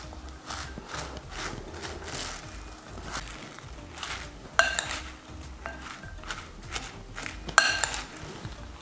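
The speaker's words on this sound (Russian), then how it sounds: "Слегка это все нужно перемешать." Salted shredded cabbage salad is mixed in a bowl, with soft rustling and tossing and a few sharp clinks of utensil against the dish, close and fairly quiet.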